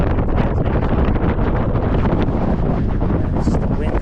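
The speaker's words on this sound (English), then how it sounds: "It's just the wind that's" Strong, steady wind gusts buffet the microphone on an exposed hike up Carrauntoohill mountain, a continuous loud roar and rumble filling the whole stretch without a break.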